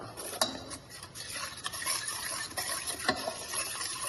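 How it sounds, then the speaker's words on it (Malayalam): A spoon stirring cornflour into a little milk for an Oreo pudding, with soft rhythmic scraping and clinks against the bowl, close and continuous. "ഒരു കുറച്ച് പാലിൽ ഇത് നല്ലോണം കലക്കി എടുക്കണം കട്ട ഒന്നും കൂടാണ്ട് എടുക്കാം"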